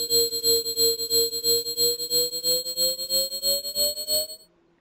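A sustained Sylenth1 synth note with the release turned to maximum buzzes loudly and steadily, slowly rising in pitch, then fades out over a short tail after the key is let go.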